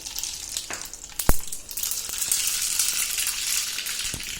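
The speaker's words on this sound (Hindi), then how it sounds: "इसमें मैं आधा टीस्पून राई डालूंगी" Half a teaspoon of mustard seeds hits hot oil with a sharp crackle, then a bright, steady sizzle builds and continues, dotted with small pops and a faint clink or two.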